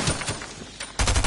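Bursts of rapid video game gunfire in a dark shooter map, sharp automatic shots cracking in quick succession with a brief lull before a louder volley.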